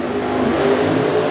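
A 903 cubic inch Billy Albert drag race car engine roars at a drag strip, loud, close and sustained as one unbroken, heavy rumble.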